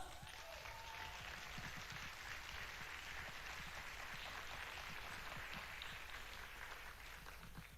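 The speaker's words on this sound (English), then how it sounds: "We can keep clapping for her until she takes a seat" Faint, distant audience clapping for Kate Kalot at a summit, a steady wash of applause heard from far away with a persistent background hum.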